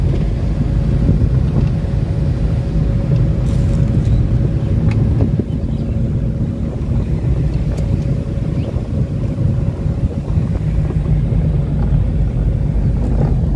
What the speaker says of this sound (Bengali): ফরহাদ ভাই ড্রাইভিং করছে গ্রামের সরু পথে